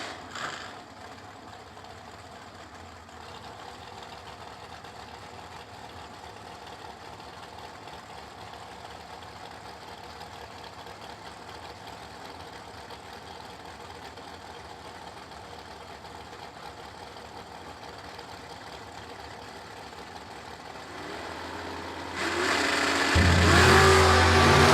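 At an old school bracket drag race, cars including a Camaro sit idling in a steady mid-pitched engine drone before the engines suddenly surge loud near the end as they launch.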